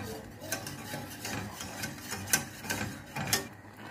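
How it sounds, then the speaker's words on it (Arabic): A spoon scrapes through a thickening cream mixture for a no-butter, no-cream chilled cheesecake, making soft, repeated swishing strokes at close range with a gentle, uneven rhythm. "صافي غنبقى نحرك فيه حتى نحصل على كريمة عاقدة"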